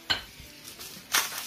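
Vegetables sautéing in a pan with tomatoes going in, two sharp clanks of utensil against metal over a low sizzle, close by, with no talking.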